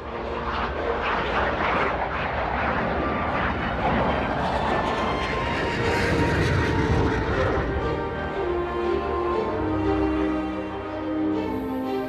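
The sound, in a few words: combat drone flying in formation with Rafale and Falcon 7X jets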